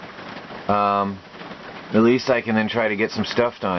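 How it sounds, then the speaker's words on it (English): Steady light rain falls outdoors beside a free-range chicken pen as a continuous soft hiss underneath someone talking. "I am actually hoping it stops raining"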